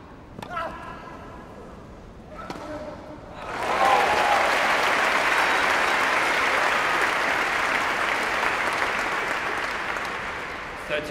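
A Wimbledon 2010 first-round tennis crowd breaks into loud, sustained applause after a few seconds of quieter murmuring, the clapping swelling quickly and holding steady before easing slightly toward the end.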